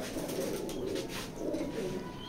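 A cock checker pigeon at a loft gives low, rolling coos in two swells, close by but faint, with no voices.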